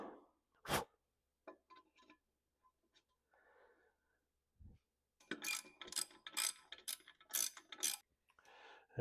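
A ratchet snugs up a nut on a 1926 John Deere Model D engine during piston, rod and flywheel installation: after scattered clinks and taps, a close run of rapid clicking pulls sound in quick bursts.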